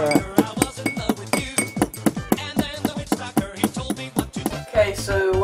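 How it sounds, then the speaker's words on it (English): A metal fork stirring a drink in a glass, producing a rapid series of sharp clinks and taps against the glass, close and fairly loud, with no talking. "now you just get your fork and you just stir it"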